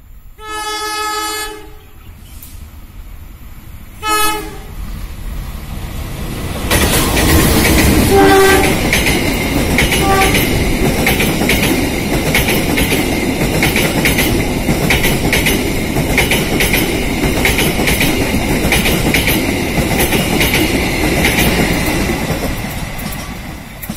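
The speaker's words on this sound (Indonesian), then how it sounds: "kereta api Sancaka dari Surabaya Gubeng sampai dengan Yogyakarta persiapan masuk di sinyal masuk dari stasiun Lampuyangan" Sancaka passenger train pulling into Lempuyangan station in Yogyakarta: two loud horn blasts, then a steady, close rumble of wagons passing, with wheel clatter and rattling continuing to the end.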